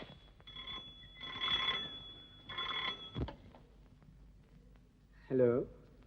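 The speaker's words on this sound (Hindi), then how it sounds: "ये उसी का फोन होगा, शायद रास्ते में कहीं देर हो गई होगी।" A telephone rings indoors in an early-1950s Hindi drama setting, with a couple of bursts of bright electric ringing, a short knock and a brief voice near the end.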